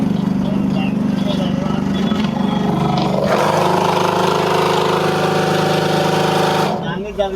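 Old salvaged ship machinery from a Bhatiyari, Sitakunda ship-parts yard runs with a loud, steady mechanical drone and a rattle from loose parts. It continues throughout, with people talking over it.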